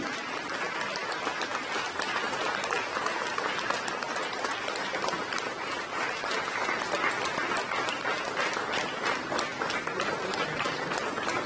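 Dense, steady applause from a large hall audience greets the finance minister as she comes onstage at a literary felicitation event, sustained and loud throughout with many overlapping claps.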